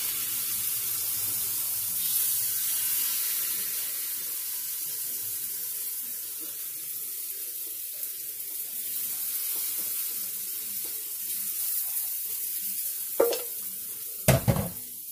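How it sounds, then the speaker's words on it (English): Steady, hissy sizzling of hot water cornbread batter frying in hot oil, continuous and fairly soft, with a few clanks and knocks of utensils near the end. "You hear all that sizzle? That's what's making the good crunchy part."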